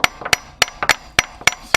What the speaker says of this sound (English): And take a hammer.